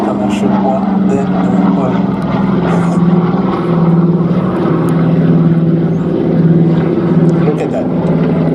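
A Douglas DC-3 Dakota propeller airliner flying a display at the Flying Legends airshow, its radial engines making a loud, steady droning hum that rises and falls slightly as a commentator talks over it.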